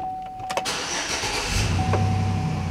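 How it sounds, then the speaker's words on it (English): A regular-cab Chevrolet Silverado pickup cranks briefly, then its engine catches and settles into a low, steady idle heard up close, with no voices. "Let's start it up."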